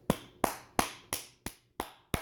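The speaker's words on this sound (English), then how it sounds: "round of applause." Seven slow, separate hand claps ring out one at a time, close and crisp, each fading quickly before the next, with silence between them and no crowd.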